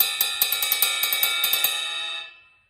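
A drumstick taps the bell of a suspended cymbal in a quick run of clear, bright pings. The ringing carries on briefly after the last stroke, then dies away, with no voices.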